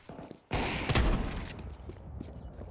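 Nova shotgun fire in Counter-Strike 2: a loud, close blast booms out, then a second heavier shot follows a moment later, with a rumbling tail lingering afterward.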